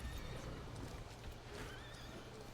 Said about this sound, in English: Oh yeah, I forgot to mention that you have a horse in this game.